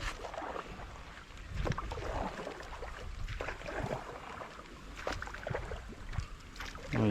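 A small boat being turned on the Manimala River: water sloshes and splashes irregularly against the hull, with soft knocks and light wind buffeting the microphone, heard up close without talk.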